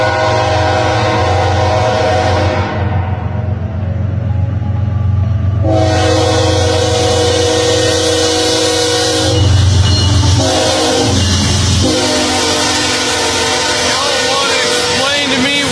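A long freight train of green tank cars rolls past on tracks in North Dakota, a loud continuous rumble and rattle of wheels with a blaring horn at the start and again partway through.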